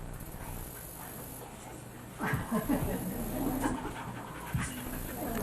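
A dog pants in quick, breathy bursts close by while being coaxed to play, with soft movement and scuffling sounds and a faint low background hum.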